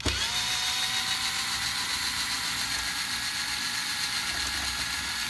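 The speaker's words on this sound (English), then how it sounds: "Take a screwdriver, pretty high torque for loosening it." A high-torque power screwdriver whirs steadily while loosening stainless screws from an aluminum LiFePO4 battery case, a close, constant motor whine with no talking.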